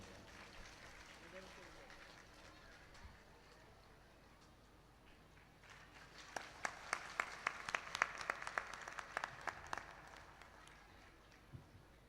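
An audience claps in welcome at a religious havan gathering. A faint, distant patter of applause builds for a few seconds and then fades, with voices speaking over the gathering.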